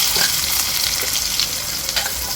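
Garlic fries loudly in a couple of spoons of oil in a pan, a dense close sizzle with a few spatula scrapes over a brief moment, no voices.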